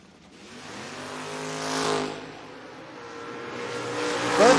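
Door-class drag race cars launch down the strip at a drag racing event, engines rising in pitch as they accelerate and pass, with a short tire chirp at the end, moderately loud outdoors.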